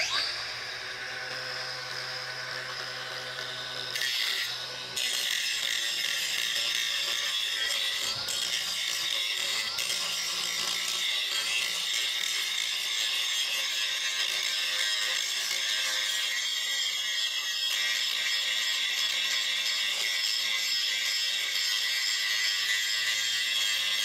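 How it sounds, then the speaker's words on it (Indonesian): A DongCheng DCSM04-125 cordless angle grinder grinds down a weld bead, giving a loud, steady high-pitched whine that runs unbroken after a short start-up. "kita akan uji menggerinda. Ini bekas pengelasan"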